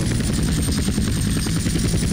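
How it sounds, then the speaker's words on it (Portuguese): A helicopter in a GTA game thumps steadily with rapid rotor chop and a continuous high whine, loud and close throughout. "Vou tentar descer aqui sem explodir esse helicóptero aqui."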